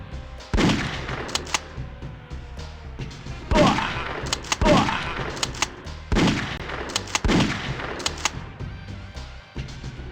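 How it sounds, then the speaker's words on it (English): Shotgun blasts from the video game The Crow: City of Angels, about seven loud, sharp booming shots at irregular intervals over a steady game background, with possible brief talk. "Shotgun time."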